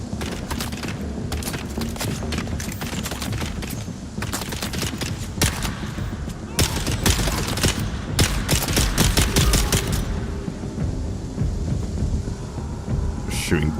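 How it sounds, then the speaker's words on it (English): Dart gun shooting in the game Dune Awakening, a dense barrage of rapid shots and cracks layered over a constant rumbling din, continuing throughout with some busier stretches. "Just shooting darts at them."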